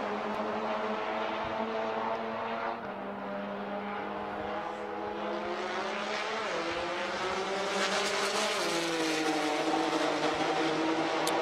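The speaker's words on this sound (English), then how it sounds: "Cole driving Sydney, the Life Motorsports GTR" A Life Motorsports GTR race car, nicknamed Sydney, drives at Circuit of the Americas, its engine a loud continuous drone with rising and falling pitch as it passes and shifts, with no talk over it.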